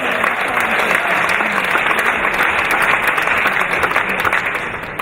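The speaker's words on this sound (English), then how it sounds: "Give yourselves a round of applause there." An audience at a charity auction for rhino conservation claps steadily and loudly for about five seconds, a dense close applause that tapers slightly at the end.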